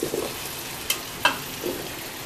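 Potatoes go into a pan of frying tomato and onion for a Sonora-style cheese soup, a soft sizzle punctuated by two sharp clinks of a spatula and a brief rustle as they settle.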